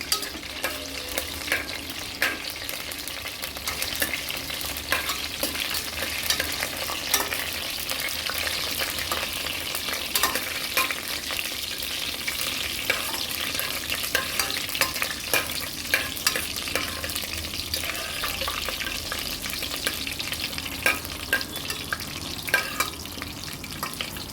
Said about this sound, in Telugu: ఇదంతా గోల్డ్ కలర్ వచ్చేటట్టు తాలింపు గింజలు, ఎండుమిరపకాయలు వేసుకోవాలి